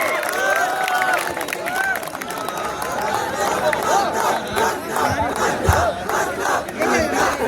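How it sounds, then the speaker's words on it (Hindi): A crowd at a college freshers' cultural night cheers, whoops and claps for a dance group, a dense roar of shouts and applause with voices rising over it. "जोरदार तालियों के साथ स्वागत कीजिए इस डांस ग्रुप का"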